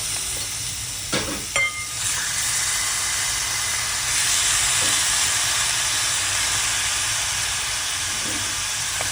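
Washed mutton added to hot masala of turmeric and coriander powder, setting off a loud, steady hissing sizzle, with a couple of brief metallic clanks near the start.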